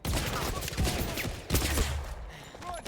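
Gunfire in the video game First Light, rapid bursts of shots coming in clusters with short gaps between them, loud and close, with crackling impacts mixed in.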